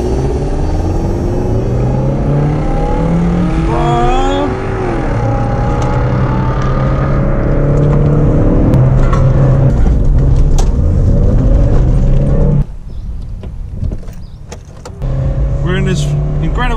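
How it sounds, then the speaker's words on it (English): A Ford car engine hums and rises in pitch as it revs and accelerates, loud and close, then drops away briefly before the rumble returns. "Fast car, the Ford."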